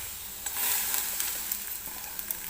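Pavta beans dry-roast in a kadhai, giving a brief, soft, steady hiss with a few light taps and stirs of a spatula, close by.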